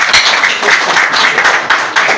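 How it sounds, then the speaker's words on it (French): An audience at a 2025 baccalaureate results ceremony applauds the graduating children with steady, loud, dense clapping from many hands that fills the whole moment close up. "Je voudrais que vous puissiez applaudir tous ces enfants qui sont arrivés."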